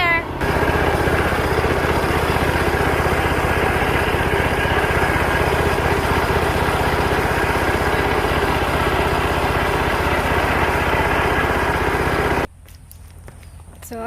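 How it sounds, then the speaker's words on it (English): A small tractor engine runs steadily nearby, a continuous loud rumbling drone for about twelve seconds before cutting off abruptly, then faint background remains. "So that's my little tractor."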